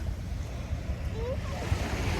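Ocean waves at Sharjah beach at low tide, a steady close wash of surf with wind buffeting the microphone throughout, loud and continuous, with no voices.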